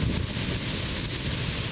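Strong, steady wind roars across an open golf course with a stormy edge, a constant broadband rush buffeting the microphone with no pauses or voices.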